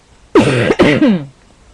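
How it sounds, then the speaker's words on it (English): A single loud throat-clearing cough, close by and brief, with a rough hacking burst followed by a short second push. "I'm coughing"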